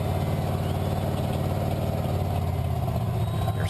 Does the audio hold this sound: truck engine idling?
yes